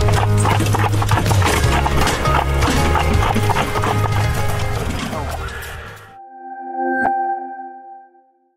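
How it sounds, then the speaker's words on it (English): A two-horse carriage clip-clopping, dense and busy for about six seconds, then it cuts off and a single sharp ringing hit sounds alone and fades away. "a two-horse carriage."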